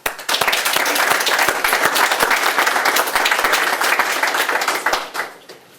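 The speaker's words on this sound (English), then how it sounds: "if we can have a round of applause to the students who are included." A room full of people at a modern history prize-giving ceremony applauding students, a loud, sustained burst of many hands clapping with a few sharp individual claps standing out, tapering off at the end.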